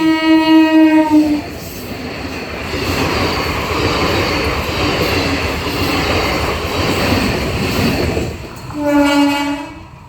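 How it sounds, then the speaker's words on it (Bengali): A MEMU passenger train bound for Adra rolls past a closed level crossing at Shalka near Raghunathpur, Purulia, its horn blaring at the start and end around a steady, loud rumble of wheels and cars passing close by. "এই মেমু ট্রেনটি এই মুহূর্তে আদ্রা যাচ্ছে"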